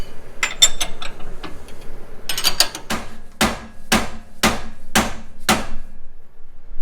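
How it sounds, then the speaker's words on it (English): A big sledgehammer drives a pickle fork against a tie rod end at the pitman arm of a Jeep JL Rubicon, ringing out in six sharp metallic strikes at a steady, deliberate pace after lighter tapping and clinks, close by. "we did have to use a pretty big sledgehammer and a pickle fork"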